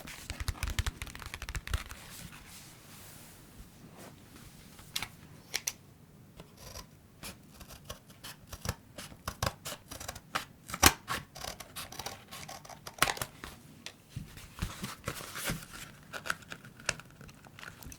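A Pokémon Obsidian Flames card tripack from Carrefour is opened up close: steady crinkling and tearing of plastic packaging with sharp clicks and rustles, no talk.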